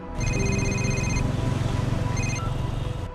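A phone ringtone plays a repeating electronic melody with steady pulsing tones, fairly loud and close, pausing briefly and resuming near the end.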